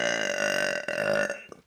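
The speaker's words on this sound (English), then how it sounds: "I don't know why I'm burping so much." A single long, loud, close burp from a person, drawn out for over a second with a rough, tonal rumble before trailing off into a short final gulp.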